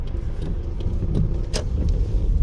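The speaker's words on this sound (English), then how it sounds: "I'm gonna wait for this little BMW here." A small BMW rolls past at a shopping center in East Las Vegas, heard as a steady road and engine hum with faint clicks and rattles in the background.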